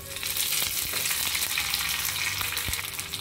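Mustard seeds, garlic and curry leaves sizzle steadily in hot oil for a South Indian tempering, a constant close hiss broken by a few sharp pops.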